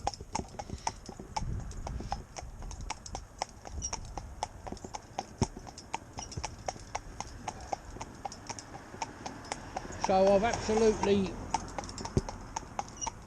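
Hooves of a Morgan horse clop steadily and sharply on a hard surface as it walks at an even pace, with a person speaking briefly near the end.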